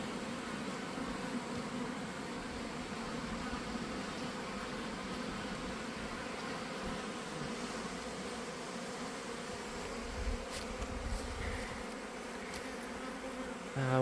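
Dense, continuous buzzing of honeybees swarming around the entrances of several backyard hives in early October, a steady close drone with a few louder passes near the end.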